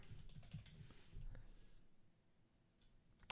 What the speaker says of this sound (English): I hate typing this shit in.